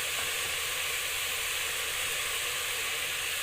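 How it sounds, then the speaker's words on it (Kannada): Mint leaves frying in a pan give a steady, fairly quiet sizzling hiss that stays even throughout, with no talking. "ಇದು ಚೆನ್ನಾಗಿ ಫ್ರೈ ಆಗುತ್ತೆ"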